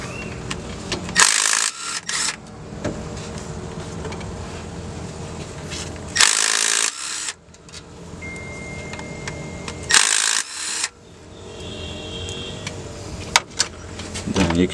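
Wrench and socket work on the cam sprocket bolts of an LS V8 engine during a cam swap: metallic ratcheting and tool clatter in bursts with brief loud clanks, in a workshop.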